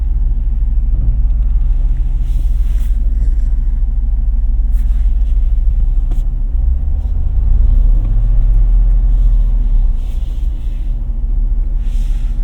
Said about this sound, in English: I am just gonna drive it around the parking lot because I wanna hear what the rattles sound like even at low speeds